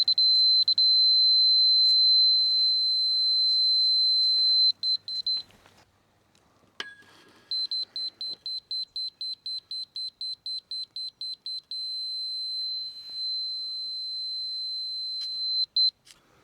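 A laser level detector on a carport footing job gives high electronic beeps, first steady tones, then a fast even run of about fifteen short pulses after a brief pause, then steady tones again.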